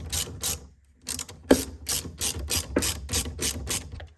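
Rapid bursts of ratchet clicking from a 10mm socket wrench loosening a car battery's negative terminal on a Toyota Supra, about ten short close strokes with a brief pause, no voices.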